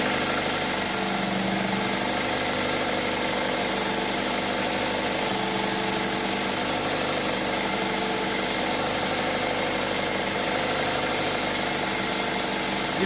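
A 2000 Toyota Celica GTS engine with a high idle fault runs at an elevated idle, a steady, dense mechanical drone with buzzing vibration held unchanged throughout, heard up close without speech.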